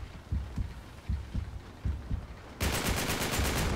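Video game gunfire in Uncharted 3 Drake's Deception: a series of soft, evenly spaced thumps gives way to a loud, sustained burst of rapid automatic shots near the end.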